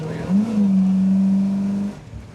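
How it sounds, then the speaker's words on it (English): Fuel-injected 1972 Chevrolet C10 pickup truck engine revving close by, a strong steady drone rising at the start and held for about a second and a half before cutting off abruptly. "very punchy truck. We didn't even get to shift through many gears there"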